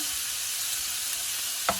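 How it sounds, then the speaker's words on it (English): Beef browns in a hot pan with a steady, close sizzle and constant frying crackle, broken once near the end by a brief stir or scrape, with no talking. "Now we're going to go ahead and brown our beef."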